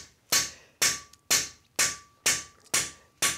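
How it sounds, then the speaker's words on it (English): Hammer tapping to peen the edge of a European scythe blade, seven sharp ringing metallic strikes in an even, steady rhythm, close and loud with brief decays between blows. "time yourself, 16 to 20 taps to the inch"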